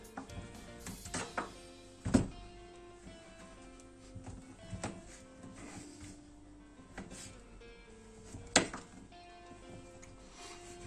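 A knife taps repeatedly on a cutting board, dicing food into small cubes for fondue savoyarde, irregular chopping strikes with a few sharper knocks, fairly quiet and close.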